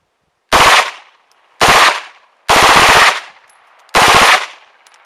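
Four separate full-auto bursts from an MP5 submachine gun at a tactical range in Prague, each loud, close and under a second long, separated by short pauses.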